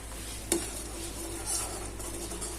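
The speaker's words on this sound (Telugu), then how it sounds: "కొంచెం ఇలా కలుపుకుంటూ వెళ్ళండి, లేకపోతే మాడిపోద్ది అనమాట" Thickening milk mixed with ice cream powder is stirred in a pan for homemade vanilla ice cream, with faint, soft scrapes and a light clink over a steady low hum.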